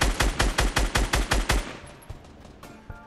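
About a dozen evenly spaced, loud shots from an automatic weapon in Fortnite, firing in a quick steady rhythm for a second and a half before breaking off, followed by a couple of scattered distant pops.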